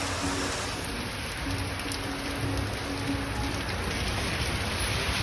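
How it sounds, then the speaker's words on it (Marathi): Heavy monsoon rain pours steadily at a village during the Ganesh festival, a dense, continuous hiss of drops drumming on surfaces with no breaks or voices. "मंडळी आता पावसाने खूप जास्त जोर पकडलेला आहे."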